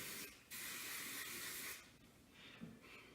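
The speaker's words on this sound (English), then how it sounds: "I will spray this section" Hairspray hisses out in bright bursts onto a section of hair being styled for beach waves, one long spray followed by a couple of shorter, softer ones close up.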